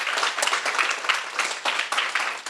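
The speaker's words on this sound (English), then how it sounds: "Big round of applause for everyone." Audience applause at a C++ developer conference, dense sustained clapping from a large crowd filling the whole clip without pause.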